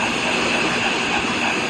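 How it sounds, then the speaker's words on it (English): Pressure washer rinsing off an ATV with aluminum parts, giving a steady, close, unbroken hiss and roar of spray from start to finish with no talk. "And then grab the pressure washer and rinse it off."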